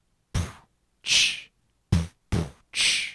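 Voice imitating a drum beat by beatboxing, five separate close, punchy hits in an uneven pattern, alternating kick-like thumps and hissy snare-like bursts with silence between.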